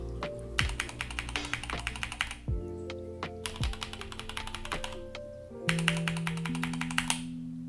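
Typing on a Tecware Phantom TKL mechanical keyboard with black keycaps, close and quiet, in three bursts of rapid clacking keystrokes separated by short pauses, with occasional heavier thocks between runs.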